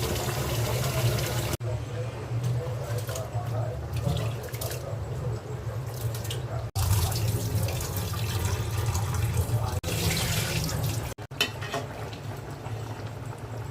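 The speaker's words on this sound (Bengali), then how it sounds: "পোলাওয়ের চালটা ধুয়ে নিচ্ছি" Tap water runs into a bowl as pulao rice is washed in a home kitchen, a steady splashing stream broken by a few brief pauses, with occasional voices in the background.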